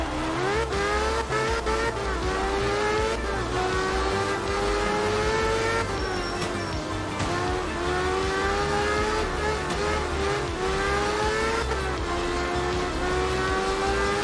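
An Audi Quattro rally car in art of rally races hard, its engine revving loud and continuous through repeated gear shifts. Tyres squeal and skid throughout.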